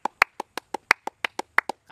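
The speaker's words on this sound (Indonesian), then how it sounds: "Ayo tepuk tangan, tepuk tangan, tepuk tangan." About a dozen crisp hand claps, spaced at a quick, fairly steady beat and close by, clapped for a cendol seller in a comic short; a brief voice enters at the very end.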